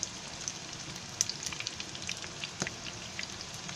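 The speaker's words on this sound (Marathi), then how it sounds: "आता चांगले आहे ना एका बाजूने भाजायला द्यायचे" Chicken pieces frying in a pan, a soft, steady sizzle with scattered crackles and pops, heard close and fairly quiet.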